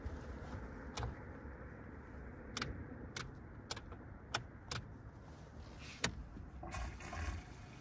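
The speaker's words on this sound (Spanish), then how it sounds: "está llenando el tambo del agua" Water pours steadily into a drum container at a lakeside fishing spot, a continuous rushing wash with several sharp clanks and knocks scattered through it, close by, with no talk.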